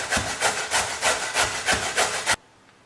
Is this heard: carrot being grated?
yes